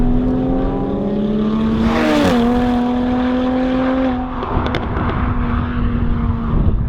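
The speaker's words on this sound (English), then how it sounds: "It also makes a lovely lovely noise. Listen to this." A Jaguar F-type sports car with a strong, steady engine and exhaust note that dips around the middle and then settles back into a smooth sustained drone, loud and close.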